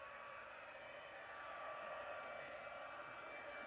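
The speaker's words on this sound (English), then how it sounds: "Clear some of this out of the way so I don't accidentally melt it with the heat tool" A crafting heat tool blows hot air steadily for several seconds while making a shaker card, a continuous, even rushing hiss held close and loud with no talking over it.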